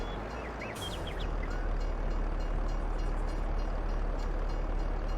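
Train rolling past a crossing with red lights in the farming video game Farming Simulator 22, a loud, steady rumbling roar that swells in after a brief beep-like chirp and holds constant to the end.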